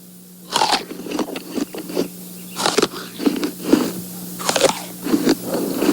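Someone bites into an apple with a crisp, crunchy snap, then chews loudly and wetly in repeated crunching bursts. It is a close-miked radio drama sound effect, with no speech.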